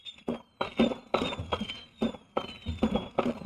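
Fireworks particle effect in a game under development, heard as a string of sharp crackling bursts roughly every half second, with whistling streaks running between the pops.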